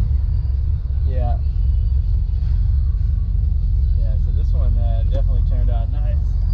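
A supercharged Camaro with a Vortech blower, tuned to over 700 rear-wheel horsepower, idles with a deep, steady, smooth rumble. Several people talk over the engine throughout.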